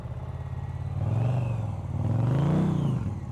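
A motorcycle engine during riding practice, revving up in two rising swells with a steady throttle between them, close and continuous with a low rumble.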